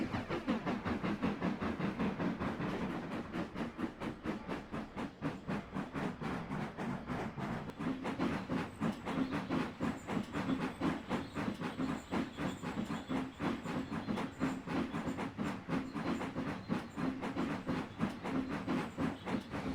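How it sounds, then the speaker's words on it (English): A steady rhythmic chuffing of two steam locomotives double-heading a train, with rapid repeated beats and a continuous rumble, fairly loud and unbroken throughout. "a doubleheader is when two steam locomotives pull a train"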